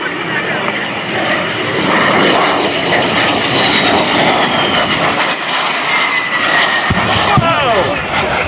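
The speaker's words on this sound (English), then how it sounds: "World's first single-engine jet fighter." A single-engine jet fighter roars past close by at an air show, its engine drone swelling loud and steady, then shifting pitch as it passes.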